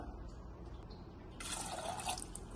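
Water is poured over salted chickpeas in a pressure cooker, a quiet drip that swells into a brief splashing pour partway through, faint and close, with no talk.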